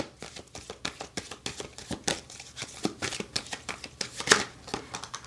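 Tarot cards are shuffled by hand in a steady run of crisp riffling flicks and soft slaps, close and fairly quiet, with no talking.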